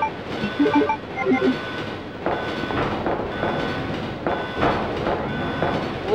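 A train runs steadily in Resident Evil 2 on the Nintendo 64, with a continuous rumble, rhythmic clattering and a few brief tonal squeals near the start, loud and unbroken throughout.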